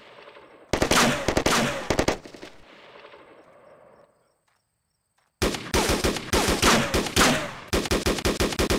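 Animated machine gun fire in two loud rapid bursts split by a brief silence, dense rattling volleys up close with no talk.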